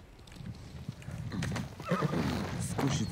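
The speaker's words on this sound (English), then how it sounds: "Where's my horse?" A horse in the samurai video game Ghost of Tsushima whinnies and snorts over the thud of its hooves, the neigh rising clearly near the end, close and moderately loud.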